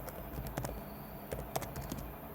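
Quick, light keystrokes on a computer keyboard while a product description is typed, an irregular patter of soft clicks close by over a faint background hiss.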